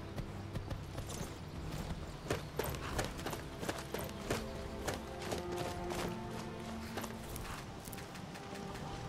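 Horse hooves clip-clop at a steady walking pace in Skyrim (Wildlander), a run of crisp, evenly spaced clops over a continuous tonal music and ambience bed with no talking.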